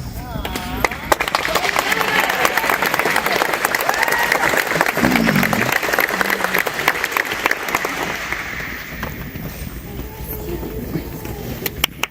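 An audience at a congressional art showcase applauds its artists, with a steady patter of clapping throughout and some voices murmuring underneath.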